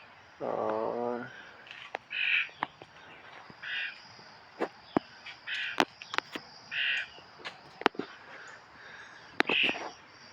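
A crow caws several times in short, separate bursts, close and fairly loud, between sharp clicks and taps, with a brief low croak near the start.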